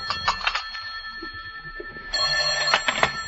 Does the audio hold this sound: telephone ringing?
yes